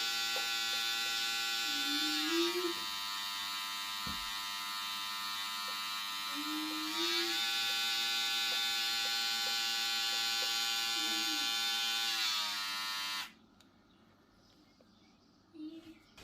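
An Andis reSurge foil shaver buzzes steadily in turbo mode, a loud close high-pitched drone with slight pitch shifts, then cuts off near the end, leaving faint background sounds.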